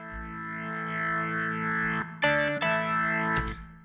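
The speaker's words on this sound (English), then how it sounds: "the sounds for that, well, the synth sound" A synth patch from Omnisphere plays sustained, chorus-rich chords with distortion and echo, shifting to a new chord about two seconds in. It runs loud and close with no voice over it.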